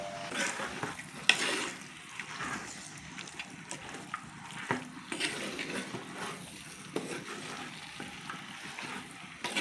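Pork dropped into a hot pan, a soft continuous sizzle with irregular stirring scrapes and clatter, fairly quiet and close.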